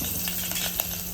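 Mustard seeds, asafoetida and garlic sputtering in hot ghee in a home kitchen pan, a steady hiss of frying with faint crackles and a small clink near the end.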